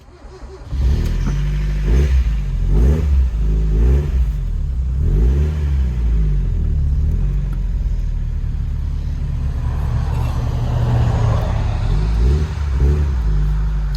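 A Mazda Miata engine revs and pulls away, a steady close rumble rising and falling through the gears as the car drives off.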